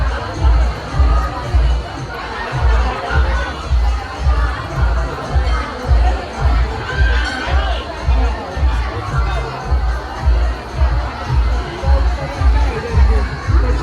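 A crowd of people fills a busy Kelamba Devi temple, with continuous babble of voices and a steady rhythmic low beat running throughout, dense and close for the whole stretch.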